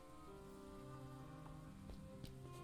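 Steady rain falls in the horror game Gibbous, set in Paris, a dense even patter with a few sharper drops, continuous and fairly faint beneath tonal background music.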